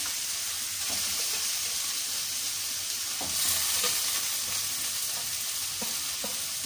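Potatoes go into a masala of green chillies frying in a pan for a masala potato bonda filling, with steady loud sizzling and a few soft scraping stirs throughout, no voices.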